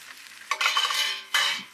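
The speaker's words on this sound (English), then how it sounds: "As soon as the liquid goes away, that's when you stir, stir, stir, stir," Lemon risotto stirred in a pan with scraping, sloshing strokes in two close bursts, the second shorter, after a quiet start; no voices.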